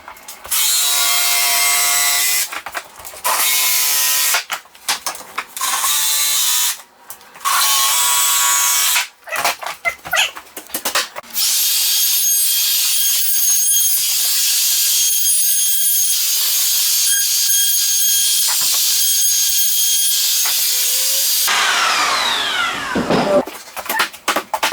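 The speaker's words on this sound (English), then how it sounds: "From here to here, I just want to use a jigsaw." A jigsaw cuts wood while framing around a window, in loud rapid buzzing bursts that start and stop repeatedly, then settle into a longer continuous cutting run, close by and with no talk.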